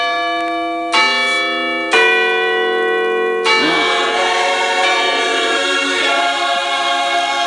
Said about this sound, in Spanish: ¡Toca las campanas!